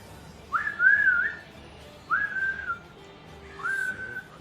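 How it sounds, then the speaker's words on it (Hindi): Three separate attempts at a whistle, each a short wavering pitched tone lasting about a second, breathy and moderately close, with quiet gaps between them and no talking. "सीटी नहीं बज रही मुझसे।"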